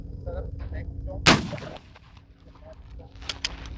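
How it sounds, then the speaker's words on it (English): A single loud report from a Civil War Confederate carbine fired at a target 150 yards away, a sharp crack followed by a rolling outdoor echo that fades over a couple of seconds. "Shooting at 150 yards here, so we'll try it again."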